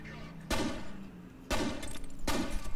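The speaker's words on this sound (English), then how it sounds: "Oh, we threw a grenade." Sharp blasts in the shooter game F.E.A.R. burst out three times in quick succession, each a loud broadband bang with a short rumbling tail, set against faint game background and some talking.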